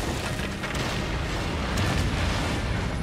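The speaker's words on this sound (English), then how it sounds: "grab and throw the sticky bomb onto objects and enemies before it detonates, strike it for an instant explosion" Sticky bomb detonating in the Darksiders video game, a loud rumbling burst that carries through a dense, sustained wash of game noise with no clear break.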